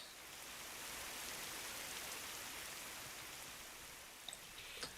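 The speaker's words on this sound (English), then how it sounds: "I can hear the rain." Steady rainfall in the video game Fate/Grand Order, a soft, even hiss of falling drops that holds throughout, with a couple of faint taps near the end.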